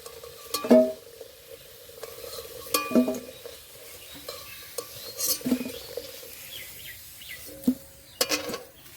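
Potato pieces in hot oil, with soft frying beneath several sharp metallic clinks and scrapes of a utensil against the pan, spaced irregularly.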